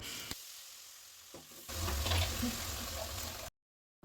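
Water, salt and coriander powder being stirred in a pan on the stove for a small river fish curry: a quiet stretch, then a steady close hiss of liquid with stirring scrapes, ending abruptly.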